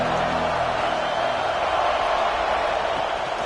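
Penn State football stadium crowd cheering, a loud, steady roar of thousands of fans that fills the space without pause.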